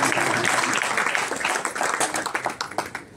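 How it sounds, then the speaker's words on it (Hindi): An audience claps together in a dense, steady patter that thins toward the end into a few separate claps. "पीछे वाली ताली बजा सकते हैं।"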